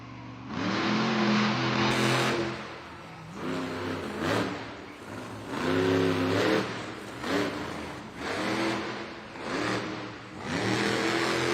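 Excalibur monster truck at a Monster Jam arena event in Duluth, Georgia, its engine revving loudly in repeated surging bursts that rise and fall, roaring close and dominant with little else audible.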